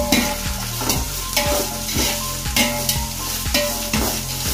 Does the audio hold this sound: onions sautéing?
yes